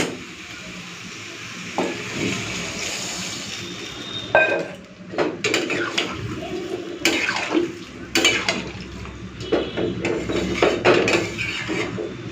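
A lid goes onto a cooking pot while prawns and greens cook in a home kitchen, with sharp metallic clinks and clatters scattered over a quiet background.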